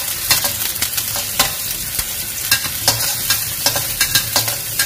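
Garlic sautéing in hot oil for a squid and celery stir-fry, a steady close sizzle broken by repeated clacks and scrapes of a spatula stirring the pan, with no voices.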